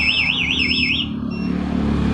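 A Yamaha Aerox scooter fitted with a smart-key alarm wails with a loud warbling siren that sweeps up and down for about a second, then cuts off, leaving a low hum and background murmur.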